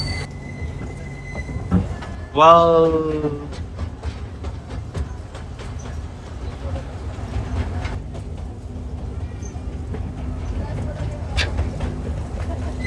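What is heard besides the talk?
toy train ride at Mysore railway museum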